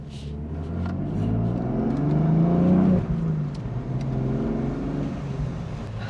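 A BMW M4 slows under braking from about 45 to 5 mph, heard loud and close from inside as a steady engine and road drone whose pitch falls and settles.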